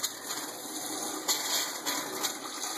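A bathroom faucet just reconnected after copper pipe soldering sputters and gushes water mixed with air bubbles, a steady loud hiss broken by irregular bursts and spits.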